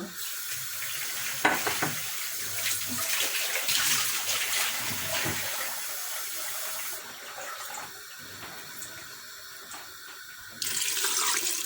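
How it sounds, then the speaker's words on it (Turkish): Water pours steadily from a tap into a cooking pot, a continuous close splashing rush that shifts in tone as it fills and briefly eases before surging again. "Biraz daha su ilave etmem gerekiyor."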